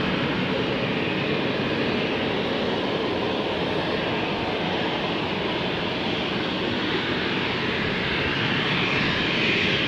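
A jet airliner takes off from runway 36L at Amsterdam Schiphol Airport, its engines producing a loud, broad, continuous roar that holds steady and swells slightly near the end. No voices are heard.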